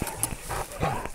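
A three-year-old Kangal-type livestock guardian dog of Sivas and Muş lineage barks a few short, close, gruff times at a farm, with low noise between the barks.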